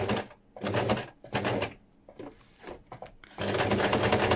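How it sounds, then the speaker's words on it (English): A hand needle and thread are pushed and pulled through a junk journal cover made from Amazon packaging, giving a series of close, scratchy rasps in uneven bursts, ending in a longer steady scrape. "So I'm going to push the needle across."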